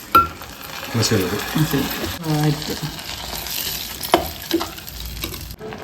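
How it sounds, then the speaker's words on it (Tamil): Urad dal, cumin, chili and asafoetida tempering in hot ghee: a steady frying sizzle with a few stirring scrapes and clicks, a voice speaking over it in places. "உளுத்தம் பருப்பு, ஜீரகம், மிளகா, பெருங்காயம் நெய்யில் தாளிச்சிருக்கேன்"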